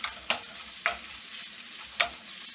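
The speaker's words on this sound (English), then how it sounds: "cook the sausage" Sausage for a shrimp and sausage paella cooking in a pan, a soft steady sizzle broken by three or four sharp scraping stirs, close and alone without talk.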